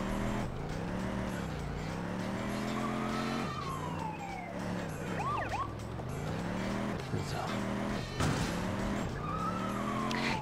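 A fast car in the top-down crime game GTA 2 skids and screeches repeatedly, with squealing tire sweeps rising and falling over engine noise and a wailing police siren, loud and continuous.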